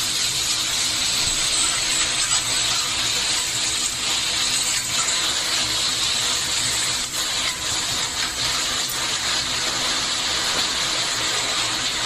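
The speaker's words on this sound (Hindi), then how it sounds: "सब्जियाँ फ्राई हो चुकी हैं।" Vegetables for noodles frying in a pan, a steady loud sizzling hiss that holds evenly throughout without speech.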